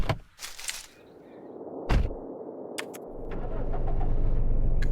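A car engine in the survival game Cataclysm starts with a sharp burst, then settles into a steady low hum that swells gradually and holds at moderate loudness, with brief clicks scattered over it.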